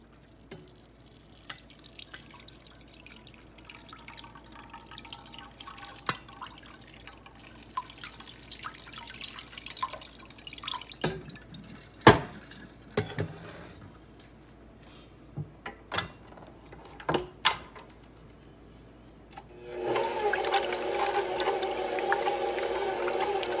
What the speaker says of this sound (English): we are going to turn on the machine again to help rinse, help get this water rinsed through your butter